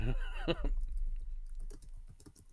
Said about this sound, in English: I'm just typing